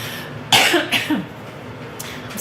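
A single sharp cough bursts out, followed by a couple of rough throat-clearing coughs, close to the listener in an otherwise quiet room.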